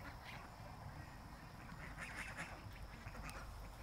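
Geese honk faintly in the distance, with a few scattered calls rising over a low outdoor background.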